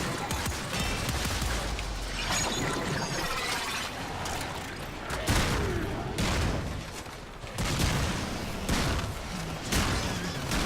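Heavy Gunner enemy firing in Warframe, dense rapid gunfire bursts rattling continuously with mechanical clatter and occasional louder volleys, no talk over it.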